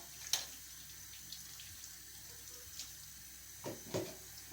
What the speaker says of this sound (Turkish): Balıklarımı yıkayayım